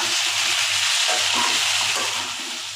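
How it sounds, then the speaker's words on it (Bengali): Potatoes frying and being stirred in a pan over a high gas flame, a steady broadband sizzle holding loud and constant throughout with faint scraping underneath. "এই সময় গ্যাসটাকে হাই ফ্লেমে দিয়ে আলুটাকে একটু কষিয়ে নেব।"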